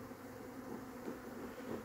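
Honey bees buzz around hives in a steady, faint drone with no other sound.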